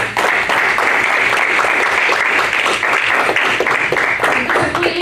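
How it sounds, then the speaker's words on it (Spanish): A church congregation claps loudly and densely for several seconds, a sustained wash of applause filling the room with no pause. "Dale un aplauso al Señor."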